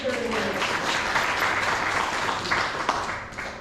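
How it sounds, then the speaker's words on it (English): Steady audience applause at a community coffee chat during a reading of anniversary names, a dense continuous patter of clapping that fills the whole stretch with some voices mixed in. "You can clap as we go."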